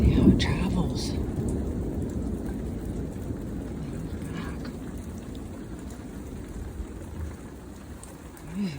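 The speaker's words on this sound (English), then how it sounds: "This is not normal sounds of thunder." Distant thunder rumbling low and continuous during a rainstorm, with rain patter over it and a few sharper cracks near the start and end.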